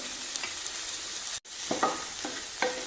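Chopped two-colour capsicum goes into a hot pan and is stirred, giving a soft sizzle under several scraping strokes of a spatula, with a brief dropout midway.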